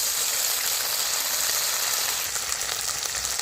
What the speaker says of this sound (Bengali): পেঁয়াজ আর রসুন যে বেটে রাখছিলাম ওটাও দিয়ে দিচ্ছি তেলের ভিতরে